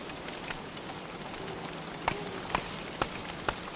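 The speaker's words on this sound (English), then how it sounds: "Stupid rain." Steady patter of rain in the survival video game Don't Starve, a continuous wash with a few sharp drop-like clicks rising above it, no talking.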